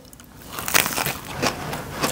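Close, crisp crunches from biting into freshly fried shrimp wrapped in noodles, about four distinct bites spread over two seconds, loud and near.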